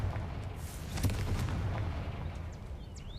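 A fiery Confringo spell blast in Hogwarts Legacy, a booming burst of explosive rumble with crackling fire that rolls on for a few seconds and then fades.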